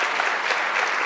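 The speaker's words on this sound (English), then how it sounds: "Yes, it's worth an applause." An audience at a community gathering on immigrant rights applauds, a short, steady burst of many hands clapping together in a hall, even and fairly close throughout.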